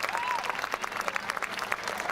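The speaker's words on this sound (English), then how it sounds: "Let's give Coach Tradle a round of applause." A crowd at a school pep fest gives a round of applause, brisk and fairly loud clapping throughout with a brief voice at the start.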